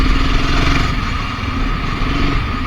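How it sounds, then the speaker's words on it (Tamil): A BSA Gold Star 650 motorcycle engine runs loud and close at a steady idle, its throaty rumble continuous throughout. "அதோட இன்ஜின் நாய்ஸ் தரமாக இருக்குங்க"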